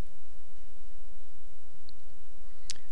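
A single crisp computer mouse click rings out near the end, close and brief, over a steady low hum in an otherwise quiet room.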